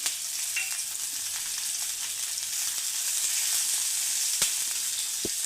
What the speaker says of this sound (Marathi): आपल्याला आता हा कांदा लालसर रंगावर परतवून घ्यायचा आहे